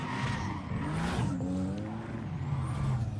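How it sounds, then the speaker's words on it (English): A BMW engine in Need for Speed Payback revs, roars and shifts pitch with squealing tires, loud and continuous. "Car sounds amazing though."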